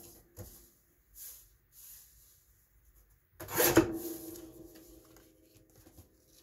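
Journal paper being cut narrower for an accordion-style journal craft, heard as a single quiet rasping cut lasting about half a second, with faint handling noises before and after.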